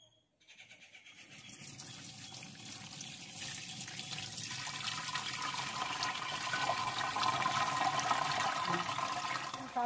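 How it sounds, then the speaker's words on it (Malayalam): Homemade beetroot wine is poured through a cotton towel stretched over a pot, making a continuous splashing stream that grows steadily louder over about ten seconds. "ഇനി അതിനകത്തേക്ക് നമുക്ക് ഈ തോർത്തങ്ങോട് വിരിച്ചു കൊടുക്കാം ഇനി ഇതെടുത്ത് ഒഴിക്കുക"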